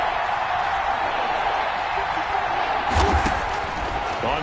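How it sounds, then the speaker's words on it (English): A stadium crowd in an American football video game roars as a continuous broad wash of noise, swelling slightly louder near the end, with a commentator talking over it. "That just means this crowd's going to get even louder."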